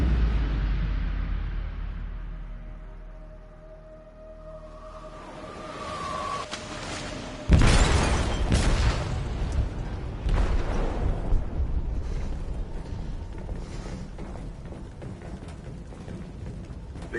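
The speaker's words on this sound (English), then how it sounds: "They detonated an explosive in the hold." A large explosion goes off in a ship's hold in the video game Detroit: Become Human, arriving as a sudden loud boom after a low rumbling buildup, then a long roaring, crackling aftermath as debris and water rush.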